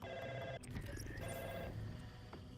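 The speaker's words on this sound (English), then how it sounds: "It's a phone call." A phone rings in the video game Republique VR, a repeating electronic trill that sounds fairly quiet and a little muffled over a noisy background.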